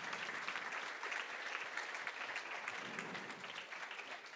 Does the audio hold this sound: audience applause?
yes